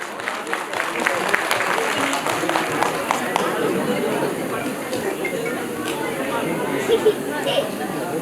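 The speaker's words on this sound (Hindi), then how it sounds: "जोरदार तालियों के साथ" Loud, sustained applause from a large audience at a public stage event honoring a local legislator, a dense wash of clapping with crowd chatter running steadily throughout.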